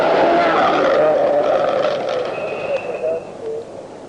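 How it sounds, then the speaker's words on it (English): A Ford Escort RS rally car on a gravel stage of the 1980 Scottish Rally roars loudly nearby and then gradually fades, with some high whining and skid-like noise. "Car 25 is the Escort RS of Mike Jackson."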